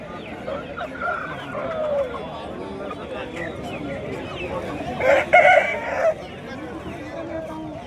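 A rooster crows amid the bustle of a busy outdoor poultry market, the call rising briefly over constant crowd chatter and bargaining voices near the end.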